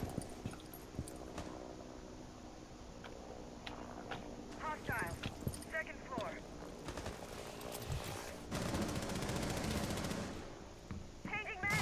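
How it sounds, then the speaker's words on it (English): Automatic gunfire in Rainbow Six Siege on the Consulate map rattles in rapid bursts at moderate distance, coming in uneven clusters under ongoing talk from players. "Someone's shooting at close sniper"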